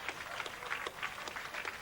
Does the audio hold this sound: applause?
yes